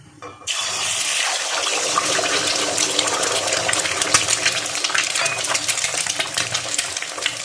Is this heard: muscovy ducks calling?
no